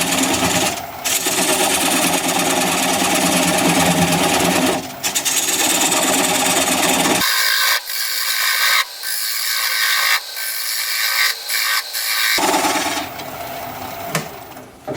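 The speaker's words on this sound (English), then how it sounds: "I'm going to grab a 3/8 inch bowl gouge and commence removing that tenon" A wood lathe turns sycamore at about 550 RPM while a 3/8 inch bowl gouge removes the tenon, giving a loud continuous scraping and ratcheting cut with brief pauses and a clearer clicking stretch midway.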